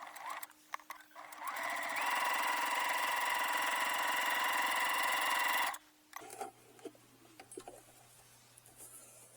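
A sewing machine top-stitches a fabric wallet, running in one steady, loud, even whir for about four seconds, with quieter handling clicks before and after.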